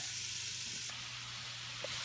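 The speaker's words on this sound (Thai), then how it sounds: "แล้วก็ทำการผัดไปค่ะ" Food being stir-fried in a pan in a Thai home kitchen, giving a soft, steady sizzle and hiss throughout with a faint clink partway through, heard quietly and alone.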